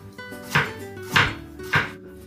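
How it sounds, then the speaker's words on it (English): A knife cuts thin slices through microwaved bitter melon on a board, three crisp evenly spaced chops sounding close and clear over a faint background hum. "This time, I want to slice it thin for easier eating."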